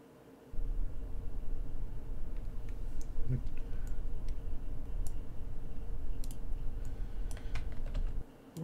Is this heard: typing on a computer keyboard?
yes